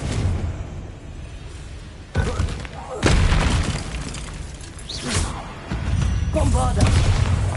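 Confringo fire spell blasts in Hogwarts Legacy go off as several loud booming bursts at intervals, with crackling impacts and voices calling out among the explosions.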